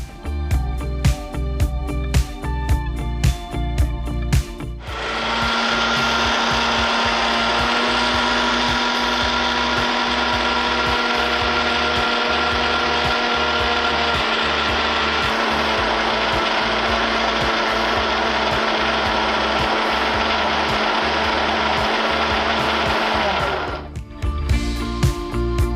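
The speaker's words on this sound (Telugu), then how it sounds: "ఇప్పుడు దీన్ని మనం మిక్సీ పట్టాలి." Mixer grinder (mixie) whirring loudly and steadily for about twenty seconds as it grinds utappam batter of rice, salt and water, starting and stopping abruptly.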